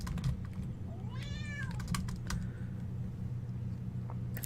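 Cats misbehaving indoors during arcade play: a single drawn-out meow near the middle rises over faint scattered clicks and taps, with low room hum throughout.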